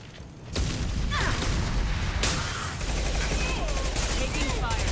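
Dense gunfire in the Mass Effect 2 video game, rapid loud bursts and booms layered into a continuous barrage after a brief quieter opening, with combat effects sweeping through.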